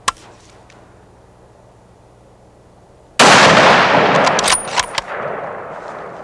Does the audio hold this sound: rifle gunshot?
yes